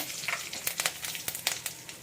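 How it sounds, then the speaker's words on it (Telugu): Curry leaves crackle and spit in hot oil during a tempering for a spinach and tomato curry, giving sharp irregular pops over a steady close sizzle, with no voices. "కరివేపాకు కూడా చిట్పట్ అనేది కదా."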